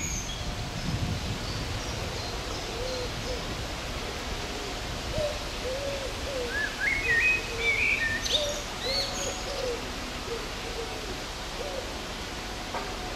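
Outdoors on a nature walk, a wood pigeon repeats its soft five-syllable cooing song at a distance, with other birds chirping faintly against a steady background hiss.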